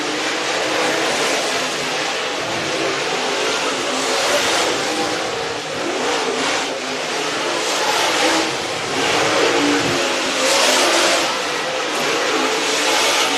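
Dirt race cars run a green-flag hot lap session at Sugar Creek Raceway, engines roaring steadily and close throughout, swelling and fading as the cars pass, with no one speaking.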